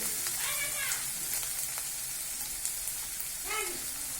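Chili and coriander powder being stir-fried in a pan for a fish malai curry give off a steady, close sizzle with a few brief scraping sweeps of stirring.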